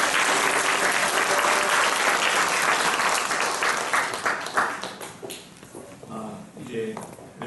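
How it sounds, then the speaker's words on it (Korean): Guests at a seminary and graduate school entrance ceremony held in a church give loud, dense applause that fades after a few seconds, with a voice heard as the clapping dies down. "큰 박수 해주시기 바랍니다."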